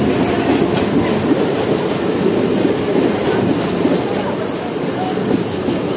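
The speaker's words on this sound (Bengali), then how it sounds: "আইসিএফ কোচ নিয়ে চলে এসেছে আমাদের ট্রেন, দেখতে পাচ্ছ।" Sahebganj local train with ICF coaches pulling into Pakur station, a loud steady rumble with rhythmic wheel clatter throughout, close by and alone.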